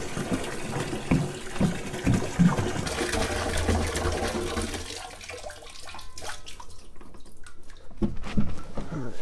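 Well water from 6-gallon jugs pours into a homemade rain catchment system, a steady rushing, splashing stream that gurgles and drips through the pipes as it fills, close by and alone.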